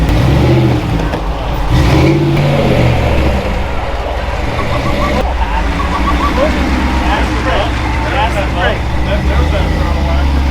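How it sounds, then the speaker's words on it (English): A rock crawler engine rumbles and revs steadily throughout, loud and close, with people talking over it. "You're driving a rock crawler, you have to drive them two-footed."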